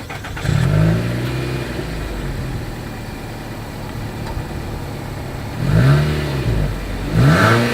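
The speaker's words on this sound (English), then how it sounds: "As always, here is that exhaust clip." A 2020 Nissan Altima SR sedan with dual chrome-tipped exhaust outlets idles with a steady low rumble, then is revved twice in quick rising-and-falling swells near the end, recorded close at the rear.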